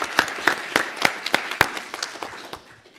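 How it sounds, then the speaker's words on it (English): Applause from an audience at a city council meeting in Olympia, Washington: a short burst of scattered, distinct claps from a small crowd, fading toward the end. "You clap again."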